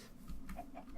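A chicken in the blocky video game Minecraft gives two or three short, soft clucks over a low ambient hum.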